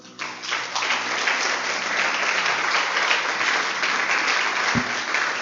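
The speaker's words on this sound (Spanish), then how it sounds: "¿Usted le puede dar un aplauso a Dios?" A church congregation applauds after a call to praise God, clapping that swells quickly after a brief opening and holds loud and dense to the end, with a short low thump near the close.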